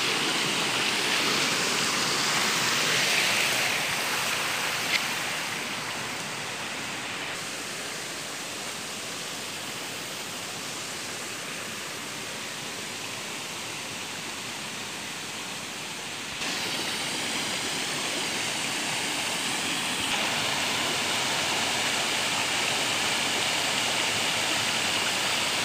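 A stream swollen after rain rushes steadily past, a dense broadband roar of flowing water that dips slightly quieter midway before rising again, with no voices.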